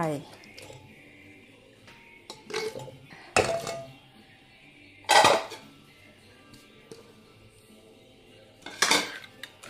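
Spicy instant noodle salad with pineapple, corn and crab sticks gets stirred in a mortar, giving sparse, sharp clattering knocks of utensil against the bowl between quieter pauses, with faint background kitchen noise.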